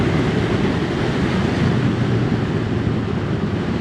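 A steady, loud engine drone from a Moto Morini Seiemmezzo 650 Scrambler motorcycle with a low rumbling exhaust note, continuous and close, with no pauses or voices.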